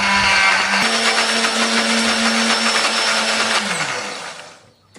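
A blender grinds a spice paste with a little added water loudly and steadily, its motor pitch shifting partway through as the blades churn the thick mixture, then winds down and stops near the end.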